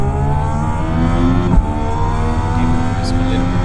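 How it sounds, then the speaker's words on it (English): A race car in a racing sim engine drones loudly and steadily with layered harmonics as another car approaches, and a sharp brief knock sounds partway through. Speech is likely mixed underneath. "Take care, there's a car approaching."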